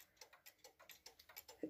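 A repaired one-day cuckoo clock ticks quietly and evenly, about five beats a second, close up with a faint, steady mechanical rhythm and a small clunk near the end.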